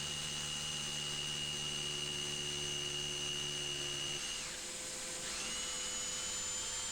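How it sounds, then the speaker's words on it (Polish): A high-pitched drill whines steadily alongside the drone of a Bosch GAS 15 PS Professional vacuum extracting dust, then the drill briefly drops and spins back up while the suction keeps running. "odkurzacz będzie się włączał tylko wtedy, kiedy będziemy włączać naszą wiertarkę"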